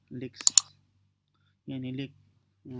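A computer mouse clicked a few times in a quick cluster, sharp and close, before and between bursts of someone speaking.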